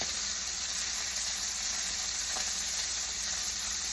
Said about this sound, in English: the frying of the meat is very loud